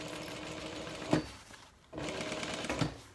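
A sewing machine running in two short, quiet bursts as it back stitches a corner on a tote bag, with a pause between the runs.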